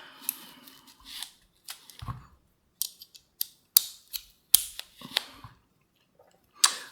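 APS CAM870 airsoft shotgun clicking as its shell lifter works after the trigger pull, a string of sharp, close mechanical snaps and clacks separated by short pauses.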